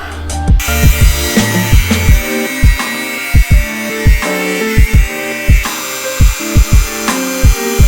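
A power tool grinds and cuts through a metal car part, producing a loud, continuous whine broken by a rapid series of sharp rhythmic knocks and thuds.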